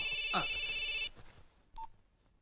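A telephone rings in a scene from the film Chatrapathi. One steady electronic ring tone sounds for about a second, then cuts off, leaving a brief faint tone and quiet room noise.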